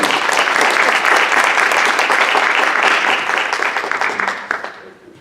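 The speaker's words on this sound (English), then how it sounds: "Let's give a big hand clap for Mr. Jeff Dickerson" Loud, dense applause from an audience welcoming a speaker at an event at the Porter Sandford Center, sustained for several seconds before thinning and fading at the end.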